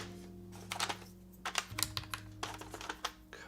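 Quick bursts of keystrokes on a computer keyboard, clustered clicks with brief pauses between them, close and fairly quiet.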